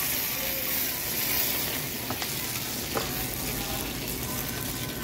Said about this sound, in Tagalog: Ay, piprito na oh.